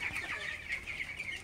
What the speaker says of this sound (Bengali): এই শেডে কিন্তু 400 মুরগি দিয়ে দিছি